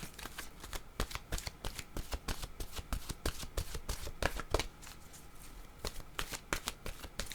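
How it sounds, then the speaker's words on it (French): Oracle cards being shuffled by hand, a steady run of crisp riffling and slapping strokes repeated throughout, close and alone with no voices. "Je vais demander une carte de mon oracle de l'âme intuitive."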